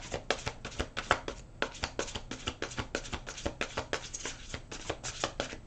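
Tarot cards being shuffled by hand, a quick run of crisp riffling snaps and soft slaps in an uneven rhythm, close and fairly quiet with no talking.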